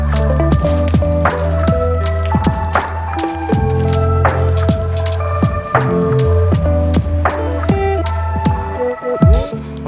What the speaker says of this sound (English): I've got some hot soapy water. I'm going to use my clean sponge and just basically do like the frame and the wheels